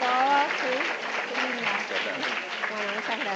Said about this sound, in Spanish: Vamos a agradecerle con nuestro caluroso aplauso a la doctora Sommer